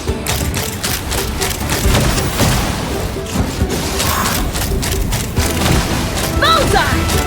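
Cannon fire in the video game Genshin Impact: repeated heavy booms burst through a dense, continuous battle din, loud and close throughout.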